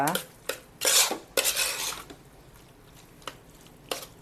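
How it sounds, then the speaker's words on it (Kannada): Prawns are stirred into a hot tempering in a cooking pan with loud metal scraping and clattering in several bursts, a long sizzling scrape in the middle, and quieter clinks after it, with no voices. "ಒಗ್ಗರಣೆಯೊಂದಿಗೆ ಚಟ್ಲಿಯನ್ನು ಚೆನ್ನಾಗಿ ಮಿಕ್ಸ್ ಮಾಡುವ"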